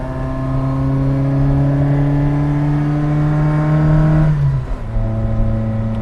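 A 1979 Fiat 127 Sport engine pulls hard while driving, a loud buzzing tone climbing steadily in pitch for several seconds before dropping sharply at a gear change, then resuming at lower revs.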